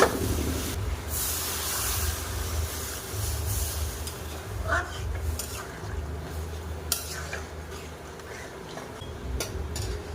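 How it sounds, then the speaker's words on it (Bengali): Water is poured into a pan of cooked potatoes and sautéed vegetables for a drumstick and prawn curry, making a hissing spray against the hot pan along with scattered clinks of metal utensils. "এবার আমি জল দেব।"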